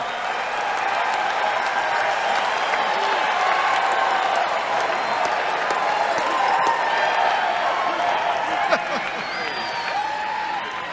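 A large convention crowd at the 1992 Republican National Convention applauds and cheers for a speech, a sustained, loud wash of clapping and voices filling a big hall without letting up.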